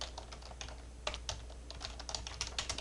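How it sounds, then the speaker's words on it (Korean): Quick, light keystrokes patter on a computer keyboard during accounting data entry, with a slightly heavier key press standing out amid the irregular, fairly quiet clicking nearby. "엔터 치시고"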